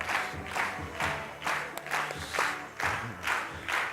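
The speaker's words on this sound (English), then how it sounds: "So give a big round of applause to Lee Holden." An audience greets Qigong teacher Lee Holden with applause, a dense wash of clapping that swells in rhythmic surges with faint cheering, loud and close throughout.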